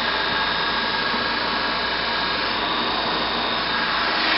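A DC motor runs at 200 volts armature voltage, near 1500 rpm, producing a loud, steady, close whirring drone with a constant pitch and no talking.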